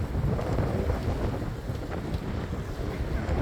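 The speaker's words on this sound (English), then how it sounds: "It's been blowing all night, and it's not going to let up anytime soon." Strong, steady wind buffets a moored boat at Puerto Escondido, roaring loudly and continuously against the microphone with a dense low rumble and no speech.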